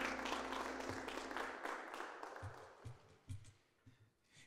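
A church congregation claps in applause during a Sunday morning service; the dense clapping fills the first part, then thins into scattered claps and taps.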